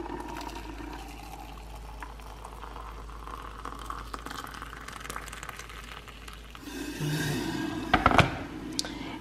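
Freshly boiled water is poured into a container, giving a steady rushing, bubbling splash over a low background hum that grows louder and fuller toward the end.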